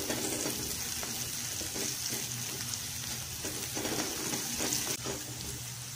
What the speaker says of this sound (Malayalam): പച്ചമുളക് ഇതൊക്കെ ഒന്ന് നന്നായിട്ട് വഴറ്റിയെടുക്കണം.